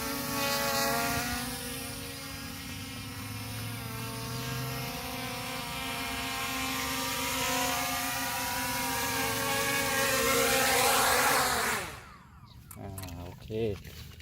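ZLL SG901 PRO MAX FPV drone coming in to land, its propellers giving a loud steady buzzing whir that runs for about eleven seconds and then cuts off abruptly, followed by quieter handling noises.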